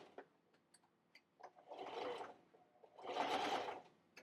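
A sewing machine back stitches through fabric layered with batting for a bowl cozy, two distinct whirring bursts of stitching with a pause between, fairly close and clear with no talking.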